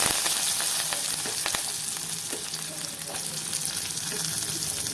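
Chopped onions hitting hot oil with fenugreek and cumin for an okra masala, a bright, close frying sizzle with frequent crackling pops and some stirring, no talk.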